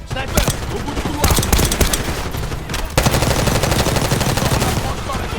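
Machine gun fire blasts in rapid, loud, nearly continuous bursts during the casino heist mission of the video game Call of Duty Black Ops 6, with brief voices in the mix.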